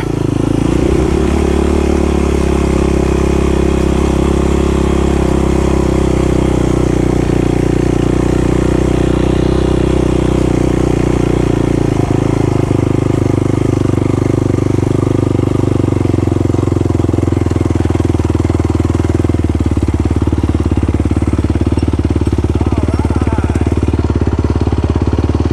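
A 2020 Yamaha YFZ450R SE quad engine drones steadily and loudly on sand dunes at Little Sahara, with a close, continuous rumble that holds for the whole stretch.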